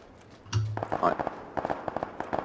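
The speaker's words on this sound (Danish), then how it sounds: "Jeg hører skud op." Sharp bursts of gunfire in PlayerUnknown's Battlegrounds, several quick pops in an uneven string, with a voice talking over part of it.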